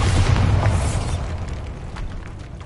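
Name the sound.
Bombarda spell explosion, Harry Potter video game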